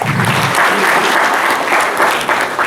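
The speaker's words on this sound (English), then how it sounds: "Please, a louder round of applause." A conference audience breaks into loud, dense applause that holds steady for the whole stretch, with a faint voice in the mix.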